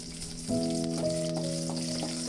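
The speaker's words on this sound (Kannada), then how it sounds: "ಬೆಳ್ಳುಳ್ಳಿ, ಹಸಿಮೆಣಸಿನ್ಕಾಯಿ, ಕರಿಬೇವು ಇಷ್ಟನ್ನು ಹಾಕ್ಕೊಂಡು ರೋಸ್ಟ್ ಮಾಡ್ಕೊಳ್ಳಿ" Garlic, green chillies and curry leaves roast in hot oil in a pan, a soft sizzle that swells suddenly half a second in and keeps crackling evenly alongside a faint steady hum, with no voices.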